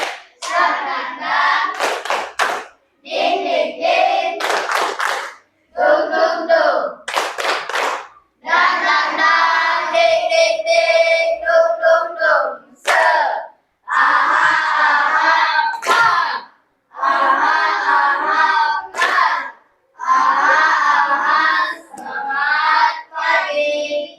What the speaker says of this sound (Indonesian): 3, tepuk semangat.